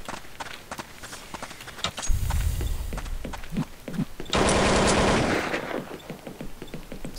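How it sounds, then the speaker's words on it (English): Gunfire from the video game Counter-Strike Condition Zero comes as a rapid run of sharp shots with a loud sustained burst near the middle, set among footstep-like clatter. "Someone's firing over there."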